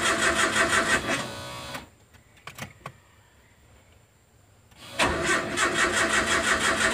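A carbureted Nissan Terrano engine cranks after a new fuel pump is fitted: a loud, rhythmic starter grind, then a quiet stretch with a few clicks, then a second cranking burst.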